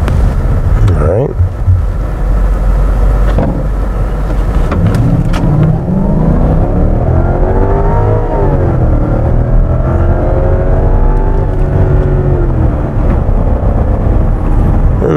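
A 2007 Lexus LS460 long-wheelbase sedan pulls away from a stop, its engine note rising in a steady climb through the gears, with road and wind noise building and someone talking over it throughout.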